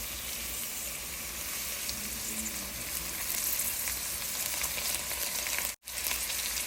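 Chopped mustard greens go into a pan of sautéed ginger, garlic and chili for sarson saag, frying with a steady, loud, close sizzle that holds throughout, broken by one brief dip near the end.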